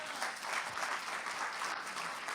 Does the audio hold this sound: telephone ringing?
no